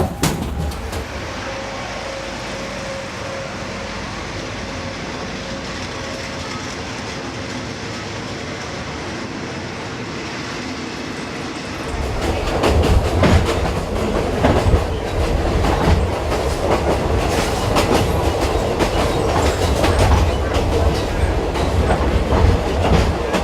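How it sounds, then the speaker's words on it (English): A train rolls along the tracks, a steady low rumble that swells partway through into louder rhythmic clattering of wheels over rail joints, with no voices. "Nothing beats a good train ride."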